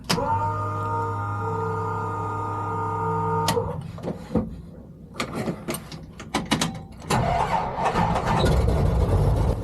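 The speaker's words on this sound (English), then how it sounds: "No drama starting the Lycoming 580." A Lycoming 580 aircraft engine on an aerobatic plane cranks with a steady whine, then catches in a burst of irregular pops and coughs before settling into a loud, rough running roar.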